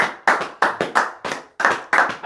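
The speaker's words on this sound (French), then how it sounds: "Tu vas acclamer très fort le Seigneur." A church congregation claps hands in praise of the Lord: sharp, close bursts of clapping come in an uneven rhythm of short groups separated by brief gaps.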